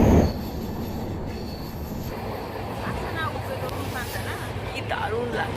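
The Howrah-Chennai Mail rolls across the double-decker rail-and-road bridge over the Godavari river. A loud, continuous rumble of wheels and carriages runs throughout, with high wheel squeals near the end and voices talking over the noise.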